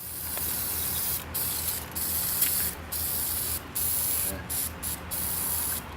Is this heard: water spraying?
yes